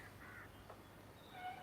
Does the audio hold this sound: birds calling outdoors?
yes